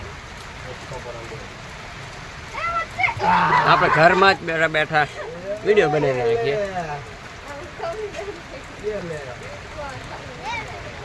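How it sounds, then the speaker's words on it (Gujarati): Rain falls again on a farm, a constant even patter underneath a person talking close by for most of the stretch. "ચાલુ થઈ ગયો છે પાછો વરસાદ"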